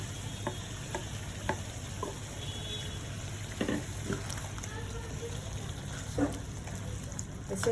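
Masala-stuffed parwal frying in a pan on full flame, a low continuous sizzle with scattered ticks and stirring scrapes, fairly quiet throughout.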